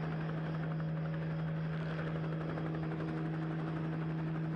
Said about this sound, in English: The helicopter was just sitting there?